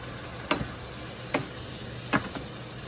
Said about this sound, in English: I'll put a little bit of white wine in there. Let that cook out.